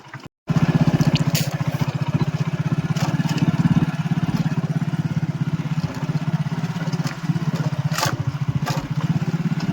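A motorcycle engine thrums loudly and steadily during a ride on village roads in Kutch, its rapid pulsing drone continuous after a brief cut at the start.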